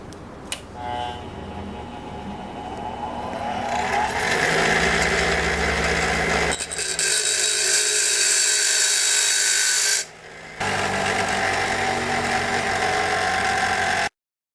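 An angle grinder grinds down both ends of a screw to make a wedge lock for a table saw miter slot clamp. It sounds as a loud, sustained whine with brief shifts in pitch as the work is pressed in, and one short pause.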